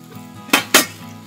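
Two quick metallic clanks as stainless steel Stanley camp cook set pots knock together, close and sharp, a brief pause between them against a quiet background.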